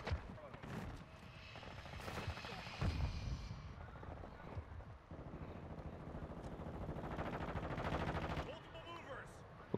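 Rapid automatic and single gunshots in a Modern Warfare II multiplayer match, including an EBR-14 marksman rifle, crackling and echoing over game noise with dense, continuous bursts throughout.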